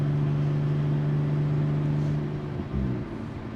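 A Nissan R34 Skyline engine holds a steady, loud idle-like drone near 3,000 RPM, with a low harmonic hum that dips and wavers briefly near the end.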